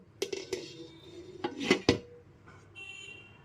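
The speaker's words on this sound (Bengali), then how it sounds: "গ্যাসের ফ্লেমটা একদম লোতে রেখে দু থেকে তিন মিনিটের জন্য ঢেকে দেবো" A metal lid clanks onto a pot of pulao set over a low gas flame, giving a few close, sharp clinks and rattles followed by a faint ringing tone.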